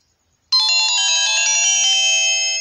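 A mobile phone chimes an alert tone as a SportyBet betting withdrawal arrives. The bright, steady ringtone starts suddenly and holds loud and close for about two seconds, with no talking.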